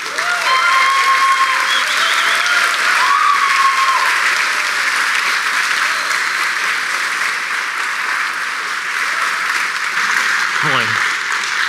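Sustained conference audience applause at Laracon AU 2024 following a first-ever talk, a dense steady wash of clapping throughout, with a brief voice at the start and a short sound near the end.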